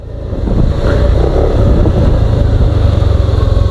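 A first-generation Yamaha Aerox 155 scooter rides along, its engine a steady, close drone half-buried in heavy wind buffeting across the microphone.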